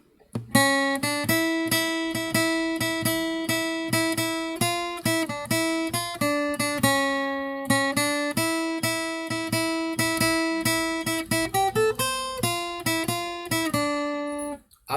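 Lead guitar playing the Ganesh Aarti chorus melody, a steady run of clear plucked notes with bright harmonics, continuous and evenly loud for the whole stretch.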